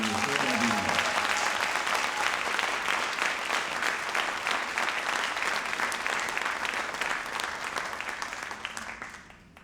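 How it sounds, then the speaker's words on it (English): Audience at a Sankofa Celebration event giving Mary a round of applause, a full steady burst of clapping that holds strong for several seconds before tapering off at the end. "I want you to give another round of applause to Mary."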